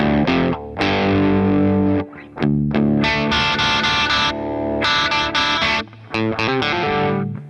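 Heavily distorted electric guitar playing an opening riff in drop D, chunky low power chords in bursts with short gaps and sharp stops, loud and close, played alone without talk.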